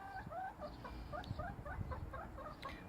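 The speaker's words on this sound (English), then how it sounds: "As you can possibly hear, the chickens" Chickens clucking close by, a quiet, busy run of short repeated clucks in an uneven rhythm, with no talking over them.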